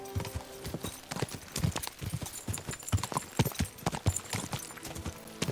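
Steady clip-clop of horse hooves at a brisk trot in Kingdom Come: Deliverance II, close and rhythmic, with occasional creaks and jingles.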